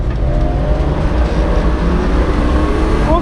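A car runs at full throttle on the Nurburgring, its engine a loud, constant roar with road and wind noise heard from inside the cabin.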